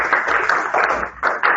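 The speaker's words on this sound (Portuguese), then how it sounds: "Então, outras palmas para elas" Applause for a student after her graduation thesis defense, a short burst of clapping that swells in uneven waves, sounding thin and compressed as if heard over an online call.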